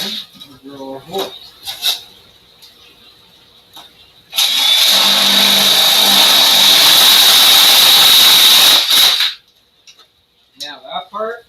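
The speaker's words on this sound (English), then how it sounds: "And we'll drill our hole." A power drill with a spade bit bores a hole through an aquarium lid, a loud, close, steady whirring and grinding lasting about five seconds, with brief handling noises and someone talking before and after.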